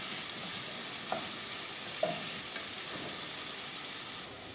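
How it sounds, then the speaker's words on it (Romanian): Onion softening in a frying pan, a steady broadband sizzle held for the whole stretch with two or three faint utensil taps as it is stirred, no voices. "Lăsăm ceapa pentru 5 minute pentru a se înmuia. Amestecăm din când în când."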